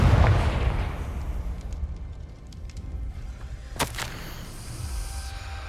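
A Confringo explosive spell blasts in Hogwarts Legacy, a loud booming burst with a sharp crack near the start, rumbling away, then a second bright crackling burst a few seconds later over low background rumble.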